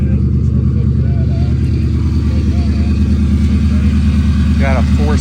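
A 2003 Ford Crown Victoria's 4.6 V8 idles loudly with an exhaust manifold leak and most catalytic converters removed, giving a constant close rumble with a faint voice over it.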